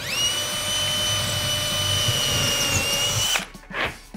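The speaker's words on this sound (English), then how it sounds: "I've got a driver on my drill motor here" A cordless drill with a driver bit whirs steadily at high speed for a few seconds, close and loud, driving a screw into wood in a garage, then stops, followed by a couple of faint knocks.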